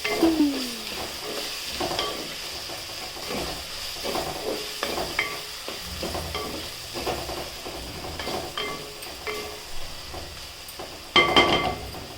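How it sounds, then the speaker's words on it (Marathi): Garlic and green chili paste fries in oil in a home kitchen, a steady sizzle with scattered stirring scrapes and a brief louder burst near the end, no voices. "लसूण हिरवी मिरची वाटलेली घालून घ्यायची. तिला चांगलं तेलात परतून घ्यायचं."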